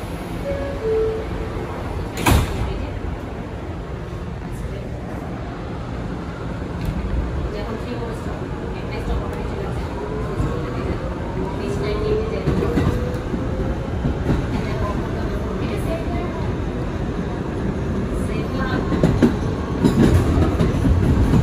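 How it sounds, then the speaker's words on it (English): Kawasaki R211A subway shuttle train doors closing, then departure: continuous rumble of rail cars with rising motor whine and wheel clatter building toward the end, a sharp clunk early on, with announcement voices in the car. "Stand clear of the closing doors"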